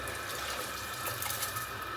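Water poured from a tumbler into a pot of soaked mushroom biryani rice, a steady close splashing and trickling stream that runs continuously without speech.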